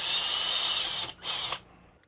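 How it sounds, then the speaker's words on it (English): Power drill boring pilot holes into a plastic enclosure for a screw terminal, a steady high whine for about a second, a brief dip, then a second short burst before it winds down to quiet. "First, I'll drill my pilot holes, and then we'll work up to the actual size."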